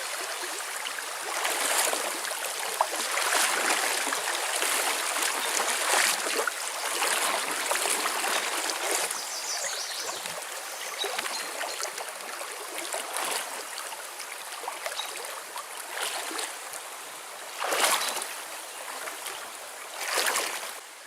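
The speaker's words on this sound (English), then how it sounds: "The stream crossing wasn't too bad. Had a little bit of a current." A strong stream current at a backpacking crossing in Michigan's Porcupine Mountains: continuous close rushing, splashing water, swelling in a few louder surges.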